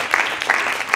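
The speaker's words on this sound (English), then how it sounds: "Give them a round of applause" Audience applause for a school debate team from Ecole alsacienne, a steady mass of clapping hands filling the room, fairly loud and continuous with slight swells, no voices over it.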